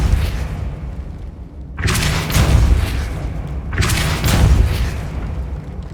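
Depulso spell cast in the video game Hogwarts Legacy, two loud, booming magical bursts a couple of seconds apart, each with a rushing, crackling tail over a low ambient rumble, with no talk.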